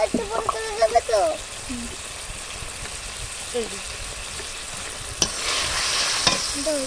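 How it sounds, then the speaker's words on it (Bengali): Potatoes and spices sauté in a pan over a wood-fired stove, a steady low sizzle and scraping stir running throughout, with a voice speaking briefly near the start and a sharp knock of the utensil late on. "আলু আর মশলাটা ভালো করে একটু কষবে"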